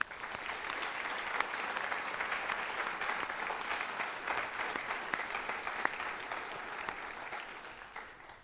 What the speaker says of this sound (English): please join me for a round of applause for the loved ones being remembered tonight, our donors, and the students being recognized